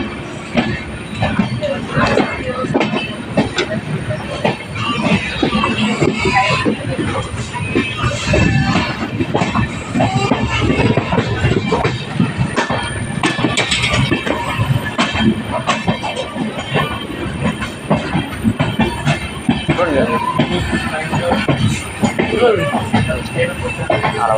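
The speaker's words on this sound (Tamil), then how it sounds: "நம்ம ட்ரெயின் வந்து திருநெல்வேலி பிளாட்ஃபார்ம் நம்பர் 3ல வந்திருக்குங்க." A passenger train rolls into platform 3 at Tirunelveli station in India with rumbling wheels, clacking over rail joints and occasional squeals, while a person talks over the noise in Tamil.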